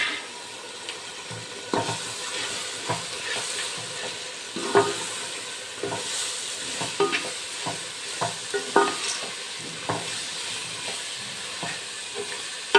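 Ground masala being stirred into mutton sukka frying in a pan, a steady sizzle and hiss with repeated scraping stirs close by.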